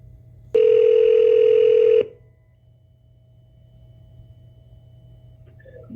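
A single telephone ring tone sounds loud and steady for about one and a half seconds on a call to Gulf Coast Investigations, then stops, leaving faint line hum and a few small clicks.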